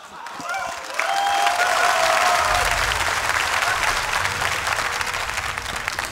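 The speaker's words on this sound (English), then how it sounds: "Round of applause for both of these guys." Crowd applause at a 2011 StarCraft II tournament match between Naniwa and Tarson swells in after a second and holds as steady, dense clapping with some cheering for the rest of the clip.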